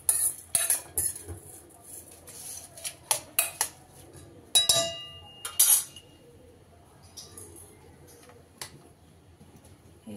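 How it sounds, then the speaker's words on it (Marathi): Rice appe batter with roasted fenugreek is mixed in a bowl with a spoon, giving sharp clinks and scrapes in bursts, then a quieter stretch of soft stirring with a few faint taps. "व्यवस्थित मिक्स करून घ्यायचं।"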